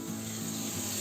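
A cooked tomato and onion paste bubbles in a pan for a prawn and cauliflower dish, making a soft, steady sizzling hiss over a low hum in one brief stretch, with no talking.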